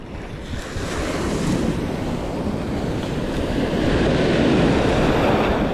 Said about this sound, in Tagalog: Medyo may alon pa kasi.